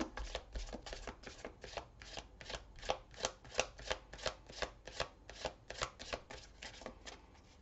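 Tarot cards are drawn and handled in a quick, steady run of soft papery flicks and slaps, close and faint, with no voices.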